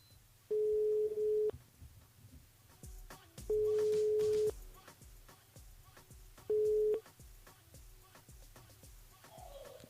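A telephone line tone sounds during a French radio call-out to a listener: three steady beeps, the first two about a second long and the last shorter, separated by pauses, over faint clicks and low background hum.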